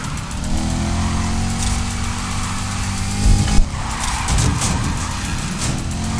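Car drifting through a drift zone in Need for Speed Heat, a steady loud engine roar with tire squeal running throughout and a brief louder burst midway, no voices.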